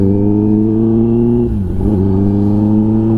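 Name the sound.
Kawasaki ZX-10R motorcycle with SC Project titanium exhaust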